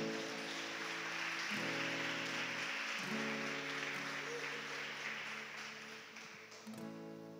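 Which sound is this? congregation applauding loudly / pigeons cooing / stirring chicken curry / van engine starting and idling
congregation applauding loudly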